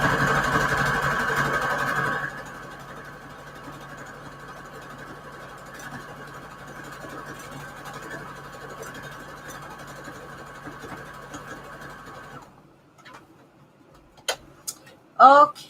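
A sewing machine stitching a ruffle border on an index card runs in a steady, close mechanical whir for about ten seconds after a louder opening burst, then stops, leaving a few faint clicks and brief handling noises.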